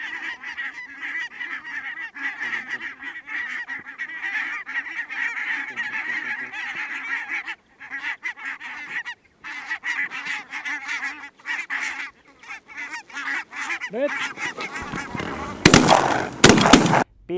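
A goose call whistle used for goose hunting imitates geese with a steady, loud run of repeated honking notes, ending in sharper, louder blasts.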